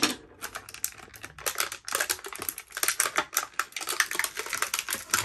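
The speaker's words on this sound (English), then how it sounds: "We're just gonna do a little snip, snip, snip," Scissors snip through toy packaging in a quick, dense run of crisp clicking cuts, close and fairly loud, continuing with a busy irregular rhythm for several seconds.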